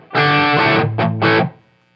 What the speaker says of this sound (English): the bottom one I think is distortion